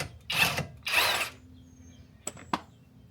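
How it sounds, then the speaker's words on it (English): An impact wrench breaks loose a front axle nut on a Honda Pioneer 700 side-by-side. Two short, loud rattling bursts sound close by, followed by a pair of sharp metallic clicks. "So let's go ahead and pop this axle nut loose. This obviously makes it a lot easier with an impact."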